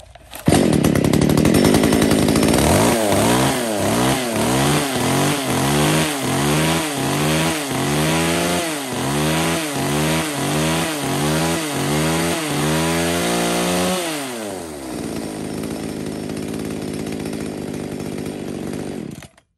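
Used Japanese-market chainsaw engine, brands such as STIHL, Echo Kioritz, Shindaiwa and Komatsu, starting up and running loud and close, revving repeatedly in a steady rising-and-falling rhythm before dropping back to idle.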